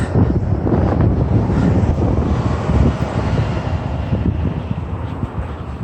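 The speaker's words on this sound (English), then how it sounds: "the wind is blowing my hair all over the place" Wind buffets a microphone outdoors on a walk in Halifax, Nova Scotia, a loud, constant low rumble and roar that swamps everything else, with no voice heard.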